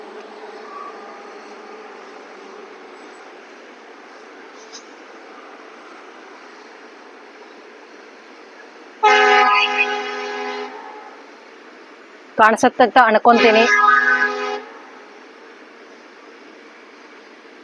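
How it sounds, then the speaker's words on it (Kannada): A train sounds its horn, first one long blast, then a choppy series, over a steady low rumble; a voice speaks briefly. "ನಮ್ಮ ಆಶ್ರಮದ ಹಿಂದ್ಗಡೆನೆ ಟ್ರೈನ್ ಹೋಗುತ್ತೆ"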